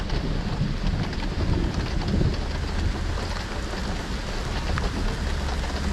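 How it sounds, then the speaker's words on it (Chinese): Rain pours steadily through a night thunderstorm outside a small camper van in Tianjin, with low rumbling thunder rolling under the dense, continuous hiss of falling water and buffeting wind. "还在闪电打雷。"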